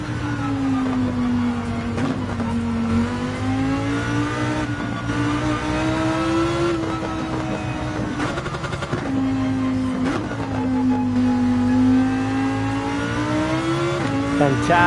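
A Lamborghini engine in the Gran Turismo 7 racing game howls loudly through a lap, its pitch rising and falling with repeated shifts and revs, with brief tire noise.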